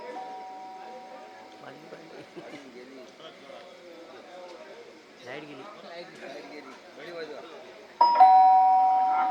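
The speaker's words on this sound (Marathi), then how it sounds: "बेल कुठे आहे, बेल कुठे आहे, हा बेल" A doorbell rings at a house entrance, a bright chime that sounds loud and close near the end after muffled talk and background chatter.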